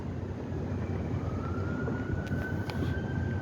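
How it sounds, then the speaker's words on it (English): Emergency vehicle siren out in Boston's city streets, a faint distant wail rising in pitch and then holding steady under constant urban traffic rumble, with no one talking. "You can hear some sirens on account of we're in"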